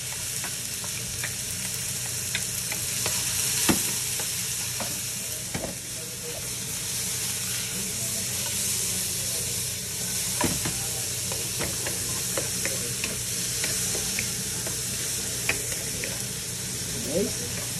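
Onions and garlic fry in a pan with tomatoes for pork buntot binagoongan, giving a steady, dense sizzling hiss throughout with occasional stirring clatter.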